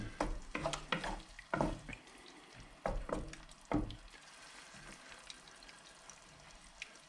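Tomato sauce stirred in a pan, with several loud spoon scrapes and wet slaps in the first four seconds, then a quieter simmering bubble with occasional light knocks.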